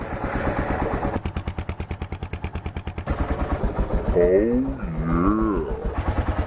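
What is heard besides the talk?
motorcycle engine starting after carburetor repair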